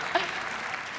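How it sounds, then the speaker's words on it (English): Audience applauding at a tech presentation, a brief, moderately loud burst of scattered clapping that stays fairly even across its short span. "we can clap for that."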